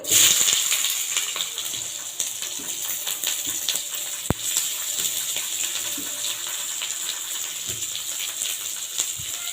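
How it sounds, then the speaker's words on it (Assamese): Chopped onions fry in a pan, producing a continuous close hiss and sizzle, with occasional faint clicks and one sharp tap partway through, and no talking. "পিঁয়াজখিনি মই ভালদৰে ভাজি ল'ম।"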